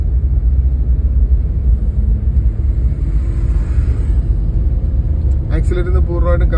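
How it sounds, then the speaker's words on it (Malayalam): A learner's car pulls away from a stop during a driving lesson, its engine rumble and road noise steady and close throughout, with an instructor talking over it. "ബ്രേക്കിൽ നിന്ന് കാലു മാറ്റി ആക്സിലേറ്റർ കൊടുത്ത് മുന്നോട്ട് നീങ്ങുക"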